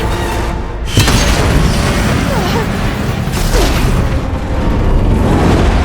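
Explosive ammo blasts in Horizon Zero Dawn's Frozen Wilds battle: loud booming impacts and crashes, with a sharp hit near the start and another around mid-stretch, over dense rumbling combat noise.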